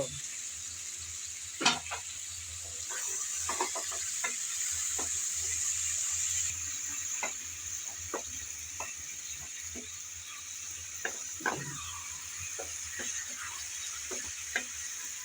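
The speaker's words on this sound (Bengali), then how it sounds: "আগে আলু আর ডাটাটা ভালোভাবে একটু কষিয়ে নেব" Potatoes and vegetable stalks stir-fried in a pan for a cauliflower and stalk curry, a steady soft sizzle under scattered clicks and scrapes of a spatula, with a brief louder scrape early on.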